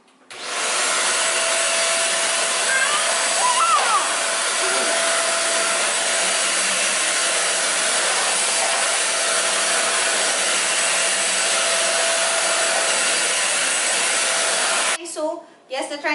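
A Deerma DX700 vacuum cleaner suctions a floor with a loud, steady, high-pitched whirr that runs without a break for about fifteen seconds before cutting off, followed by brief handling noise.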